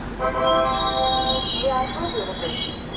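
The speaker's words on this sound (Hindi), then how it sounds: "अभी अपनी शताब्दी एक्सप्रेस निकल रही है कानपुर सेंट्रल से।" The Shatabdi Express pulls out of Kanpur Central station, with loud, close rumbling and wheels squealing against the rails, while voices and station noise mix in the background.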